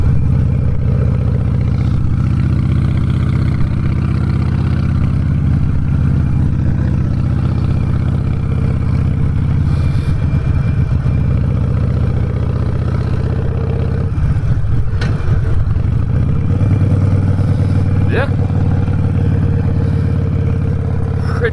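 A fuel-injected motorcycle engine runs steadily for a long stretch, a close, loud, even drone that rises and falls slightly as the throttle rolls on and off, with no talking.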